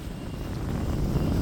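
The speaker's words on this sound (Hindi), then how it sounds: "हवा हवा चल रहल छै त बेसी मस्त लगे छै।" Wind blows outdoors in a Mithila village, a steady low rushing roar buffeting close against the microphone with no voices.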